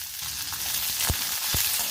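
Urad dal, five dried red chillies and a large onion sauté in hot oil for carrot chutney, sizzling steadily up close, with two short scraping stirs near the end.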